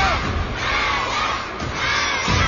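Large live audience cheering and shouting for an appearing performer, a dense sustained roar of many voices with rising yells, loud and close throughout.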